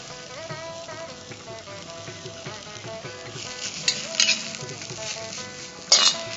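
Grated coconut frying with wilted vallarai greens in a pan as the mixture is stirred, a steady sizzle with soft scraping strokes and a few louder clatters of the spoon, with no talk.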